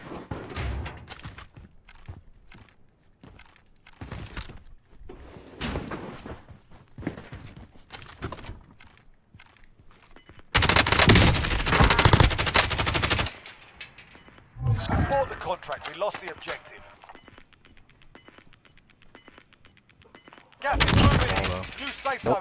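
Rapid gunfire in Call of Duty Warzone, with sharp shots early on and then long, loud, dense bursts of automatic fire, heard under occasional speech.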